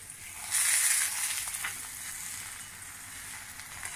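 Stuffed chicken keema paratha frying in a pan after being flipped: a bright, hissing sizzle that swells loudly early on, then settles into a steadier, softer crackle, close up with no talking.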